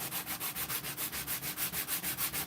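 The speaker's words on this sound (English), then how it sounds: "It's a cabinet scraper." A steel cabinet scraper drawn repeatedly across a hand-carved wooden spoon, giving a steady, rapid rhythm of close, hissing scrape strokes, roughly six per second, with no voices.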